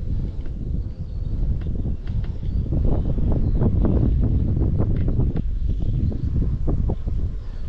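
Steady wind buffets the microphone while fishing for crappie from a boat, a constant low rumbling roar with gusting swells and faint rustles throughout, no talking.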